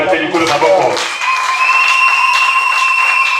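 Congregation at a religious gathering on pilgrimage applauding, a sustained dense patter of clapping with a voice speaking briefly at the start.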